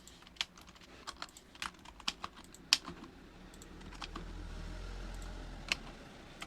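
Quiet, scattered keystrokes on a computer keyboard, with a few sharper, louder presses standing out among lighter taps, close and alone with no voices.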